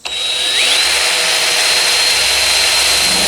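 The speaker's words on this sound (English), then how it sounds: "grab our 1/8 inch drill bit again" A power drill with a 1/8 inch bit is boring holes for rivets on a Ranger chop top. It whines up quickly to a loud, steady high-pitched spin that holds for several seconds, close by, with no talking.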